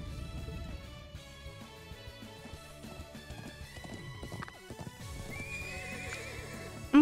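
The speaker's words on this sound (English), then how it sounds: "did Jusis really think that his horse was going to beat a motorcycle?" A horse in the Legend of Heroes video game gallops with rapid clip-clop hoofbeats and whinnies, mixed with game music and effects during a race against a motorcycle.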